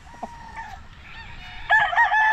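A pumpkin sweater gamefowl rooster crows nearby, first in a short, thin call and then in a louder, drawn-out crow toward the end, with no voices around it.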